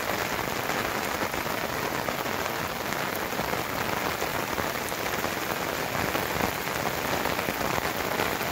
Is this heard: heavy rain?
yes